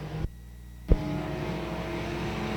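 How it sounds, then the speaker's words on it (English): Stock race car with engine trouble on the front stretch of a speedway, a distant uneven engine drone with a brief cutout and a sharp bang before the roar resumes steadily. "Harold Clifton sounds like he's having issues with his car in the front stretch"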